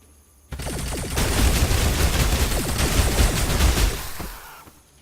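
Dense, continuous gunfire from the sci-fi strategy game Age of Wonders: Planetfall as units open fire on enemy manhunters, a loud sustained fusillade of rapid overlapping shots and bursts that tapers off at the end.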